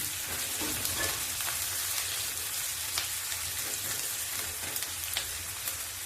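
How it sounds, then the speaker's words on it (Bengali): Chopped onions and a small green bell pepper sizzle steadily in a hot pan, a dense, even crackle with occasional louder pops, close and continuous with no talk. "সেটা একটু পেঁয়াজের সঙ্গেই ভেজে নিচ্ছি"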